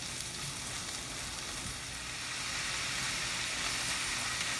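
Soya meat sautés in a pan with ginger, garlic and tomato, giving a steady close sizzle and frying hiss that holds even throughout with no talking.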